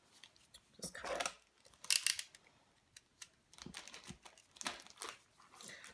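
Scissors cut through yellow tape on a cardboard box, giving quiet, close snips and crinkly rustles in several short, irregular bursts, with soft handling noises between them.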